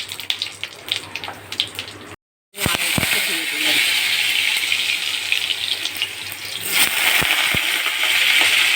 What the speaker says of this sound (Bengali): এবার কড়াটা আমার গরম হয়ে গেছে, তেলটা দিয়ে দেবো। তেল দিয়ে দিলাম, এখানে আমি জিরে ফোড়ন দিয়ে দিলাম, শুকনো লঙ্কা, তেজপাতাটা আমি দিয়ে দিলাম।